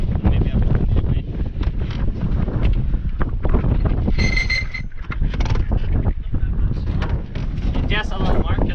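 A sailboat's sail flaps and rumbles in strong wind on the water off Italy, with heavy wind buffeting the microphone throughout and young voices talking over the constant roar.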